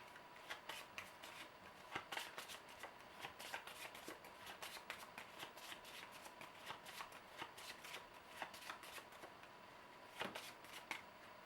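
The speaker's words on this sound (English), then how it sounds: "We will shuffle this deck." A deck of cards for the Legendary Encounters: Alien deck-building game is shuffled repeatedly, a rapid riffling flutter with crisp clicks recurring at a steady pace, quiet and close, with no talking.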